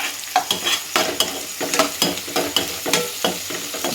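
Chillies frying in a pan for boiled egg bhurji, a loud steady sizzle broken by repeated clattering strokes of a spatula stirring the pan, close up with no talking.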